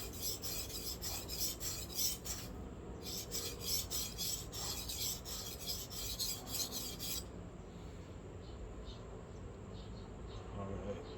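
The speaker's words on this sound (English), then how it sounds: "I'm not just mucking up the stone. I'm actually taking out material from the blade." Japanese kitchen knife blade re-profiled on a wet sharpening stone, rapid rhythmic back-and-forth grinding strokes, close and steady, that stop partway through and leave quieter background noise.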